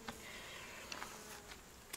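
Honey bees drone steadily at an apiary while colonies are being shaken into nucleus hives, a dense continuous buzz with a few individual bees passing close.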